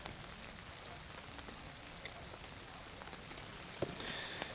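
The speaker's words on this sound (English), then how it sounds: "especially when it's raining like this" Rain patters steadily outdoors during a hunt in Russell County, Alabama, a soft, even hiss of drops on surfaces with a few sharper close taps, faint and without speech.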